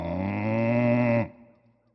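A cow lets out one sustained, steady, loud moo close by that lasts about a second, then cuts off sharply, leaving near silence.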